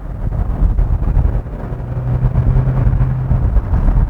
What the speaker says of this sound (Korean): 엔진의 소음이 좀 뚫고 들어옵니다